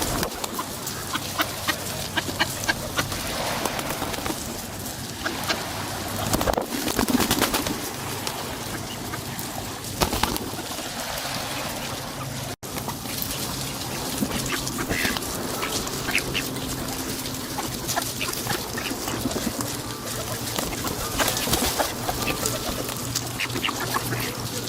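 Ducks quacking and clucking at a busy outdoor spot on the Thames foreshore, a steady chorus of birds layered over background noise, with a person talking briefly.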